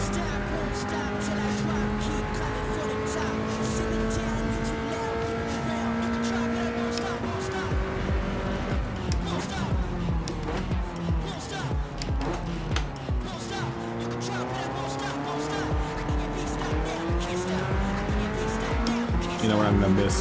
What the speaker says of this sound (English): The M3 sounds pretty good.